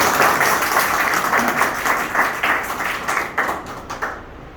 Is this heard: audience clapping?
yes